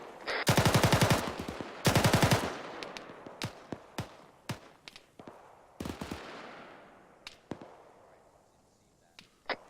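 Gunfire during a military field training exercise: two rapid automatic bursts up close, then scattered single shots, some sharp and near, others fainter and farther off.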